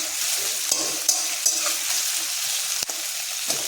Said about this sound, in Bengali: এটা লাউ তরকারি পেঁয়াজটা ভাজা হয়ে যেতেছে মোটামুটি।